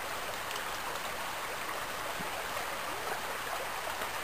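A salmon creek rushes and splashes steadily nearby, a loud, continuous wash of flowing water with no voices.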